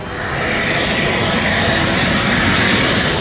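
A fighter jet landing or taking off on a three-kilometre highway airstrip along an expressway in Uttar Pradesh, India: a loud, continuous engine roar that swells in the first half second and then holds steady.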